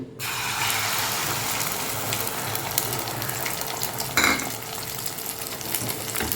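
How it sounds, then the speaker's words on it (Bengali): An egg omelette with chopped green chili and onion fries in hot oil, giving an even, continuous sizzle close up with a brief scrape partway through and no speech. "তো ডিম অমলেট করছি"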